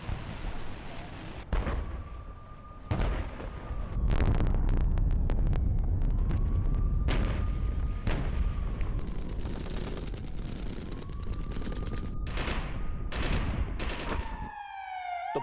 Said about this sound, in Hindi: हमला करते हुए आगे बढ़ रहा है यूक्रेनी टैंक।